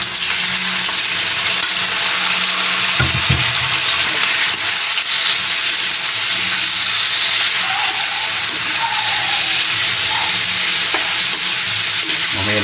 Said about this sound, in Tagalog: Ilagay na natin guys yung balon-balunan guys. Balon-balunan una natin gigisahin guys.